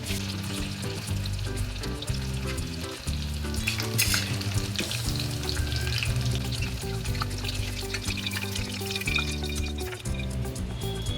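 Paneer pieces fry in hot oil in a kadai with a steady, close sizzle that runs unbroken throughout, while low sustained musical tones play underneath.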